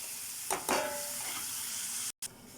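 Onions with cumin and other spice powders frying in a pan for a mutton drumstick curry: a steady, close sizzle and hiss with a couple of soft clatters and a brief dropout near the end.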